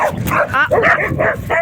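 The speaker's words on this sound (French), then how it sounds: "Eh, les deux, on arrête pas d'aboyer, là." Two dogs with high-pitched voices bark and yip in quick succession, close and loud, with short whimpering yelps mixed in.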